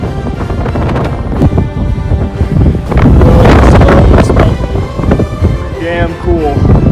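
Strong wind buffets the microphone in loud, continuous gusts, with a voice faintly audible beneath the roar.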